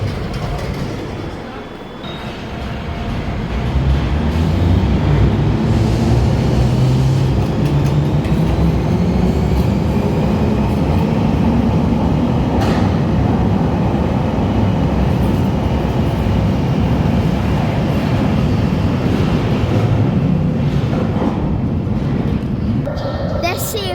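A London Underground Bakerloo line train runs as a loud, steady rumble with rolling wheel and rail noise that builds in the first few seconds and then holds for the rest of the stretch.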